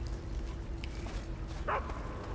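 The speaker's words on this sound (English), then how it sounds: "And this entire sequence is really cool because now you hear the dogs." Dogs bark in Metal Gear Solid 3, a few short distant yips and whimpers over a low droning game background, with one brighter bark near the end.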